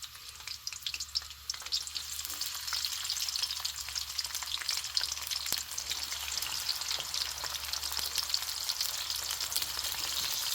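Small whole baby onions sizzle steadily in hot oil in a pan for an Indian okra-and-onion dish, a dense continuous frying hiss with faint crackles, close and fairly loud, with no voices.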